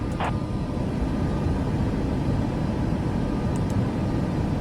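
A Southwest airliner in Microsoft Flight Simulator climbs out after takeoff from Phoenix with a steady, loud, unbroken engine and wind roar and no talking.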